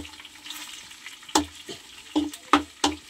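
Tofu and pork frying in a pan, with a soft hiss under a few sharp, close scrapes and clatters of stirring.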